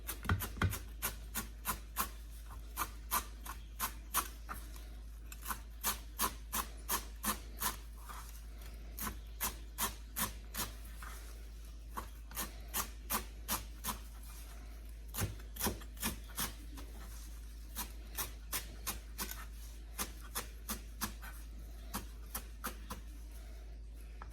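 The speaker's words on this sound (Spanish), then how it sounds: "Ahora vamos a picar nuestro cilantro." A knife chops fresh cilantro on a board in quick, steady runs of close, crisp taps, with brief pauses between bursts and a low constant hum beneath.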